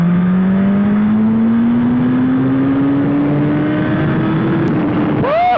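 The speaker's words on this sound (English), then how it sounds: "let's do a second gear pull" A superbike pulls hard in second gear on an Indian road, its engine note climbing steadily in a loud, continuous rising whine close to the rider, with a brief pitch change at the end.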